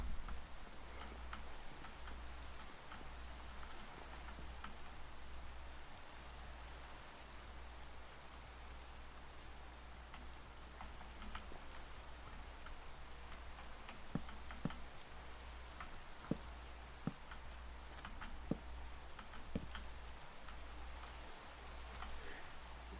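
Rain falls steadily in Minecraft as an even, soft hiss, with occasional faint ticking drops toward the end.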